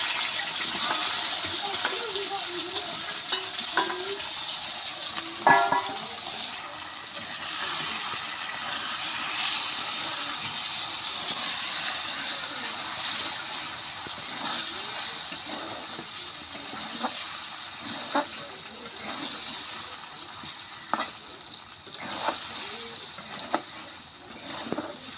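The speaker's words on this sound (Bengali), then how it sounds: "কচুরমুখিটা আমি ভাজে নেব" Taro root (kochu mukhi) frying in hot oil in a pan gives a steady, loud hiss that softens a little midway, broken by a few faint clinks.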